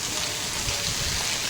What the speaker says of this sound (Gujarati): અત્યારે તો એકદમ ફૂલ વરસાદ પડવાનો ચાલુ થઈ ગયો છે